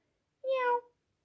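A single recorded cat meow, one clear tonal call under a second long, played alone and at moderate loudness as part of a sequence of animal sounds.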